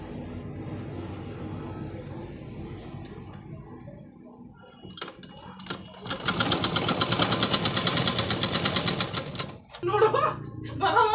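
Sewing machine stitches a sleeve onto a lined blouse in a steady, close rapid chatter of about three and a half seconds, preceded and followed by talking and handling sounds.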